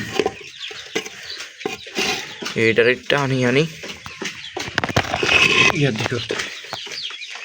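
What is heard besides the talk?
chickens and roosters clucking while eating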